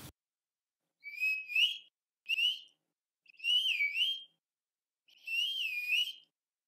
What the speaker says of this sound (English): Each dog has a different sound for the whistle.